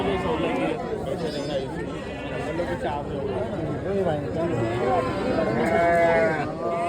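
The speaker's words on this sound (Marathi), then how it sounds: "इकडनं बघा मेंढ्यांची सुद्धा आज आवक आहे," A dense crowd of sheep bleat over and over at a busy livestock market for sheep, goats and poultry, their wavering calls overlapping under constant chatter and nearby talk.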